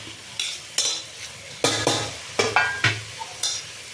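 Soya chunks, potato, beans and tomato fry in a pan under a low background sizzle, punctuated by about ten sharp spatula scrapes and clinks at an irregular rhythm.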